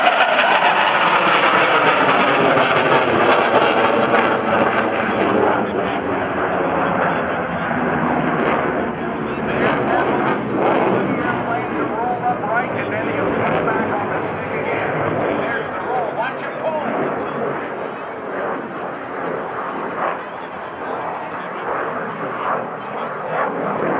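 An F/A-18C Hornet jet performing a double Immelmann at the NAS Oceana airshow roars loudly and continuously for the whole stretch, its engine sound slowly shifting as it climbs and rolls, with an announcer talking over it.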